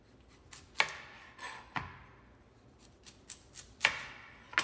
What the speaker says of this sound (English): now you wanna take your clean and washed beet, and you wanna cut each end off